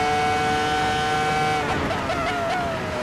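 A V10 race car engine holds a steady, loud, high-pitched harmonic wail that wavers and shifts pitch toward the end, with no voices over it.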